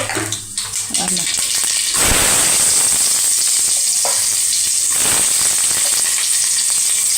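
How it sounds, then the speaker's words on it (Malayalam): Mustard seeds hit hot oil in a pan for a tapioca and beef dish, bursting into a loud, dense sputtering sizzle that holds steady after a brief quieter start, with faint speech early on. "എണ്ണ ചൂടായിട്ടുണ്ട്. അപ്പോൾ കടുകിട്ട്"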